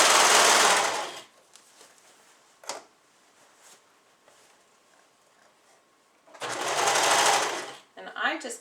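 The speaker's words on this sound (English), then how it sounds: "Just kind of walk the serger knife kind of right up to that pin." A serger overlock machine stitches a U-shaped waist seam on leggings in two loud, steady bursts of rapid whirring, separated by a quieter stretch with faint handling clicks.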